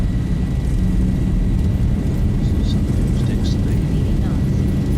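Steady roar of a Boeing 737's jet engines at takeoff thrust in the Zibo Mod flight simulator. The deep, unbroken rumble rolls on evenly, with faint higher whines sitting over it.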